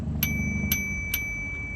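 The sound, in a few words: slimline bicycle bell ringing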